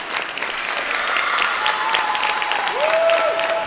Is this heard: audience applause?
yes